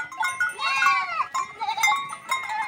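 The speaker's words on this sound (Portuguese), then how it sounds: "as cabras estão saindo com os cabritos" Goats and their young kids bleat on a farm, several overlapping wavering calls close by with some rustling, while the animals move out together.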